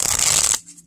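A quick riffle of tarot cards with gold gilding being shuffled, crisp and close, lasting about half a second before stopping abruptly.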